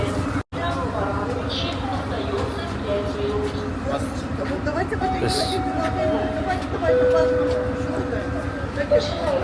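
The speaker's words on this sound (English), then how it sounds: "Right, the train is here." A passenger train pulling into a station in Belarus, a steady low rumble and rolling mechanical drone with faint squeals and tones, under a babble of nearby voices and chatter.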